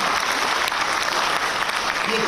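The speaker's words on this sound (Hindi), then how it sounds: "ये तालियां बजा रहे हो" An audience in an auditorium at a state-level Ambedkar Jayanti ceremony claps steadily throughout, a dense, even burst of applause with no break.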